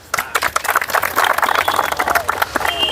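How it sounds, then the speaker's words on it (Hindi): An audience at an Independence Day gathering at a Buddhist vihara breaks into applause, a burst of scattered clapping that swells and continues for a few seconds, with murmuring voices mixed in. "उनके सम्मान में कृपया ताली बजाएं।"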